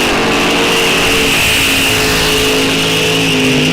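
Loud, continuous engine roar from drag racing cars at a muscle car event, a 1969 Chevelle against a Malibu, with sustained high revving and harmonic tones holding steady across the run.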